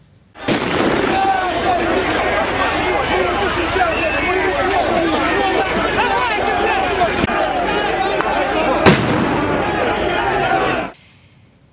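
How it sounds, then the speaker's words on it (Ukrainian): Firecrackers and smoke bombs burst in a crowd during a street rally and clash, with dense crackling and sharp pops over steady crowd noise for about ten seconds. A loud report stands out near the end. "Далі мітингувальники почали кидати петарди і димові шашки у натовп прихильників єдиної України."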